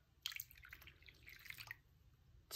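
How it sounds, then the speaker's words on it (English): Warm water trickles and drips into plastic cups from a Dollar Tree egg dyeing kit, with faint close-up splashes and splatters at a low volume. "I'm just adding just warm water"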